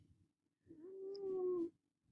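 A house cat lets out a single drawn-out, rising meow-like wail lasting about a second, close and fairly clear, with faint low rustling before and after.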